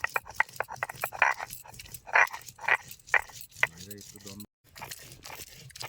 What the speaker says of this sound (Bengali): বিনস ভালো মতনই ঠান্ডা হয়ে গেছে এবার বাইটে নেব